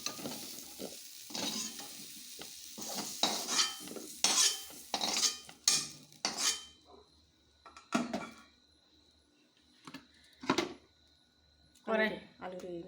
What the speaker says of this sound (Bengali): আমি আলুও উঠিয়ে নিচ্ছি।